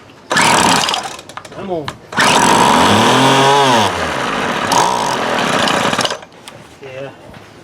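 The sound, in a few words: 1996 Craftsman string trimmer engine trying to start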